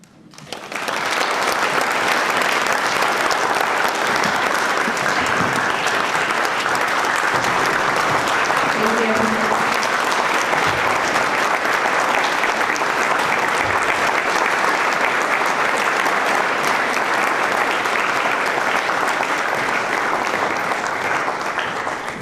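Sustained, loud applause from a large audience honoring educators at a recognition ceremony, steady clapping that fills the room throughout without pause.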